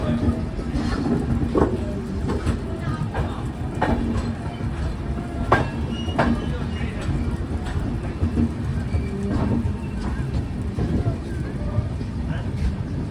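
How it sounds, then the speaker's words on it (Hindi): Train rolling on rails with a steady loud rumble and faint clickety-clack from the wheels, heard from inside the carriage with wind noise and background noise throughout. "ट्रेन की एक्सेलरेशन बहुत अच्छी है।"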